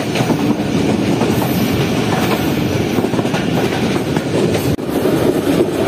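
A Pak Business Express passenger train rumbles loudly and steadily on arrival at Lahore Junction, wheels clattering continuously over the rails with a brief dip near the end.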